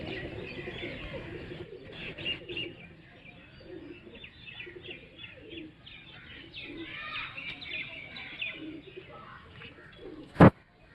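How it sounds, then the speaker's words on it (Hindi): Pigeons coo in soft, repeated throaty calls with scattered chirps, a continuous close-up cooing from racing pigeons, ending with a sharp click. "ये मतलब है लिबार्टी कबूतर है"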